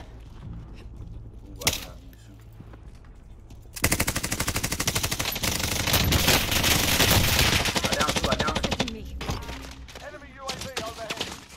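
Sustained automatic gunfire in Warzone erupts after a brief earlier shot, a dense rapid burst lasting several seconds, loud and close, then tapering into scattered shots.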